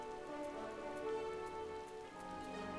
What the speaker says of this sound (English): Oh, and of course, it's raining.